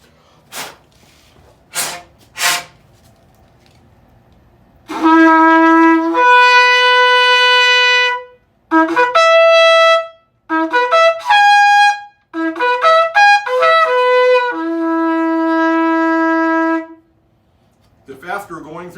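Yemenite shofar with a freshly sanded, enlarged mouthpiece, blown in several sustained, harmonic-rich blasts with brief gaps, loud and close, after a few soft taps at the start.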